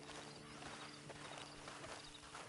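Horse hooves clip-clop in Red Dead Redemption 2, a steady walking rhythm of soft thuds under continuous game ambience and music, with no talk.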